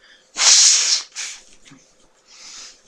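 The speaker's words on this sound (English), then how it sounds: "every once in a while I gotta do things like blow my nose" A forceful, breathy blast through the nose, followed by a couple of shorter, softer snorts and sniffs.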